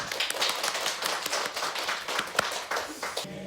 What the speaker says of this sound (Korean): 서로 위해서 격려의 박수 한번 할까요?